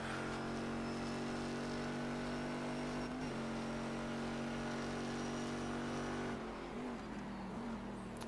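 Race car engines in the iRacing sim drone loudly and continuously, with a shift in pitch partway through as the revs change.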